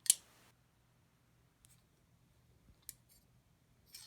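A few sharp metallic clicks and snips from a lot of vintage scissors being handled at an estate sale haul, sparse and close with quiet gaps between.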